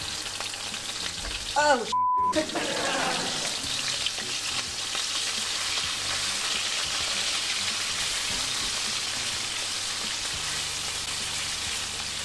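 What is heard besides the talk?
pork steaks frying in hot garlic oil in a pan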